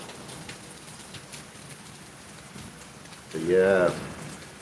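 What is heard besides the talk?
heavy rain falling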